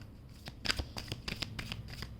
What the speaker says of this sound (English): And I'll give it one more shuffle.